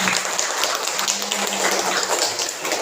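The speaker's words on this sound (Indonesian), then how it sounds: "Tepuk tangan." A third-grade primary school class applauds in the classroom, a continuous patter of scattered hand claps at moderate volume with no talking.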